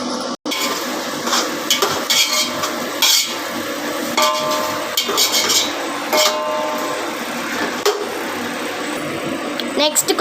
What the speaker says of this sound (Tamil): இப்போ கொஞ்சம் டொமேட்டோஸையும் ஆட் பண்ணி நல்லா வதக்கிக்கணும்